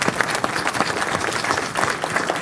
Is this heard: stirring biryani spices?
no